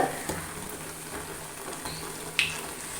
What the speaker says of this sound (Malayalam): ഇനി ഇതേപോലെ ഇങ്ങനെ ഇളക്കി ഇളക്കി എടുക്കാം